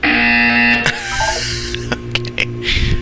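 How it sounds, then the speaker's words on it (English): A buzzer in the video game Portal 2 sounds as a loud, steady electronic drone that breaks off after about a second, followed by scattered clicks and thumps and a brief hiss. "You will hear a buzzer."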